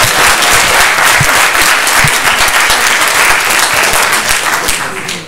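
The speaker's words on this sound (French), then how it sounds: "Ça mérite quand même d'être applaudi comme phrase." Loud, dense audience applause fills a hall at a film premiere, many hands clapping steadily at close range before the sound begins to taper off at the very end.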